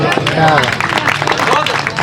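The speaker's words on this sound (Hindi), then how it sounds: "सबकी तालियां आनी चाहिए" An audience at a Hindi poetry gathering (kavi sammelan mushaira) in Bhander applauds, with a dense, steady patter of many hands clapping under a voice speaking over it.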